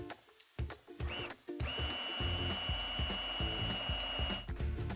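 A power drill bores into cedar wood for a railing bar. A few short starts and knocks lead into a steady, loud, close whirring drill run that lasts several seconds.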